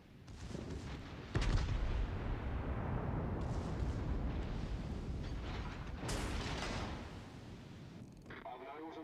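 Naval guns boom in a warship video game, with a heavy rumbling blast and sustained roar throughout, a sharp report near the start and another around the middle, while a player talks over it.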